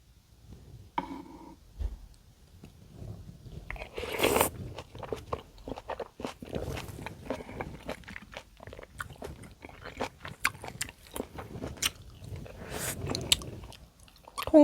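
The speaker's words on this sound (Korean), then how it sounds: "김치찌개 먹어볼게요" Close-up mukbang eating of aged kimchi stew at home, with soft wet chewing, biting and occasional crunches repeating steadily for about fifteen seconds, no talking.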